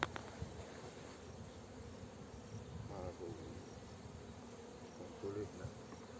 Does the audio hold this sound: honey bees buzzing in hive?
yes